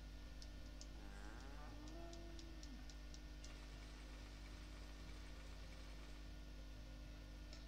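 A cow moos once, a low drawn-out call, on the farm in Story of Seasons: A Wonderful Life. It sits over a steady hum and light ticking, faint and alone.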